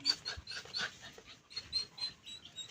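Dog vocalizing close by in a quiet indoor setting, a run of short whimpers and yelps repeating in an uneven rhythm over about three seconds, with no one talking.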